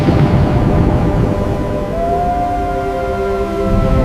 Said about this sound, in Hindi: लम्हों में हवा का एक खौफनाक भनूर उठा।